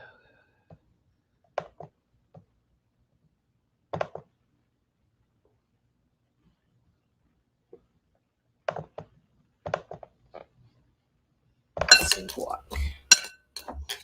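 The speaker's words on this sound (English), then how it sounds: "I'm chopping up some guac because I got really hungry." Someone chops guacamole in a kitchen. A few sparse, soft knocks and clinks come first, then a dense burst of rapid clattering chops at the end.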